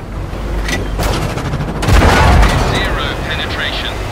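Tank cannon firing in World of Tanks console, a sharp loud crack and boom that rolls into a rumbling tail, with in-game crew voice lines heard around the shot.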